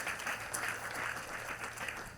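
Church congregation clapping for Jesus Christ during a deliverance service, a brief stretch of fairly faint, continuous clapping.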